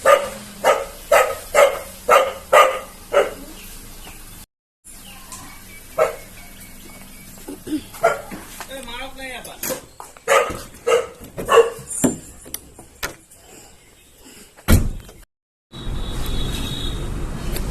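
A dog barks in a quick repeated series of loud, close barks, pauses, then yips and barks again in shorter bursts, with some background noise between.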